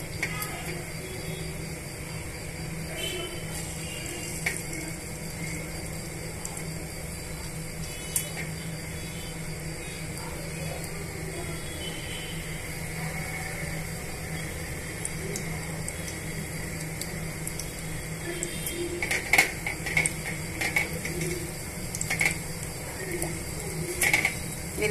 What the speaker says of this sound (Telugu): ఇందాక మనం మ్యారినేట్ చేసి పెట్టుకున్న చికెన్ పీసెస్ని ఈ ఆయిల్లో వేసి డీప్ ఫ్రై చేసుకుందామండి.